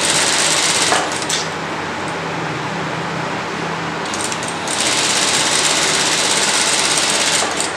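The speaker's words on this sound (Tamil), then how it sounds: "வச்சு ஒரு ஸ்ட்ரெயிட்டாக நம்ம தைக்க போகிறோம்" A sewing machine runs a straight seam through blouse fabric with a loud, continuous close-up whirr lasting the whole stretch, dipping slightly for a moment before resuming at full speed.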